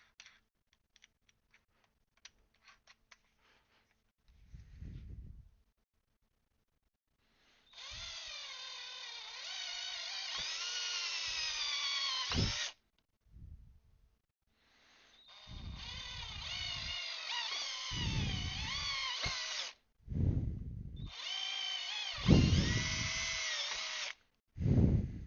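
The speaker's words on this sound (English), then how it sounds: "Let's find ourselves a smallish drill then." Small electric drill boring pilot holes while making a Fallout 4 pipe revolver prop: three sustained whirring runs of several seconds each, loud and close, separated by brief clunks and handling noises, with no talking.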